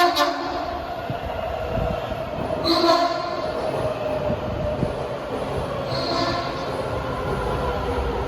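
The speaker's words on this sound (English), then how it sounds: "Here's a Suitland bound train" A Washington Metro train bound for Suitland rolls past outdoors, its steady rumble carrying high wheel squeals and brief horn-like tones as it passes nearby.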